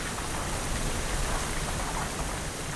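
Steady, dense rain hisses evenly throughout, a constant wash of drops with no voices.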